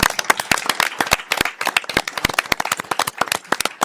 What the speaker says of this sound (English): let's give Vasily a big round of applause